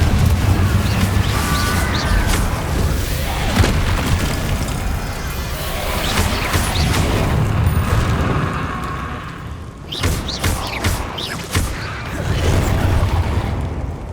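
Confringo fire spell in Hogwarts Legacy, a video game: loud, dense booms and bursts over a busy game soundscape, with a brief drop in level partway before the blasts pick up again.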